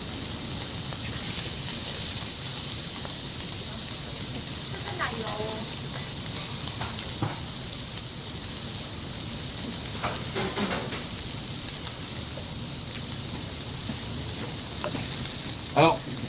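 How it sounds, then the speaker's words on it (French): Lamb sizzling in a pan while basted with melted butter and thyme, a steady dense frying hiss throughout, close, with occasional faint spoon clinks and splutters and a soft voice in the background. "On va l'arroser avec du beurre fondu dans la tête."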